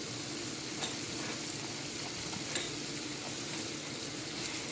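Saltfish frying slowly in a pan on a low stove, a steady soft sizzle and crackle with occasional small pops, continuous and close.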